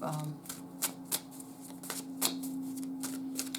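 Playing cards are shuffled close up in a series of quick crisp riffles and flicks, quiet and steady over a faint background hum.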